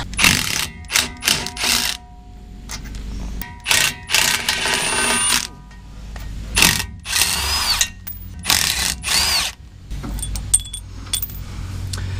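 Impact wrench driving an 11 mm swivel socket on a truck, firing in several short, loud rattling bursts separated by pauses, with metallic clinks of tools between them, close up.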